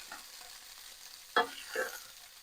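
Red curry sausages browning in a frying pan make a faint, steady sizzle, with two distinct scraping stirs or turns partway through, close and quiet with no talking.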